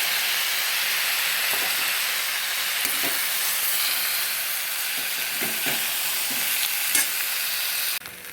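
A spiced onion and tomato masala fries in a pan, giving a steady, loud sizzle and hiss throughout, with faint scraping stir strokes now and then.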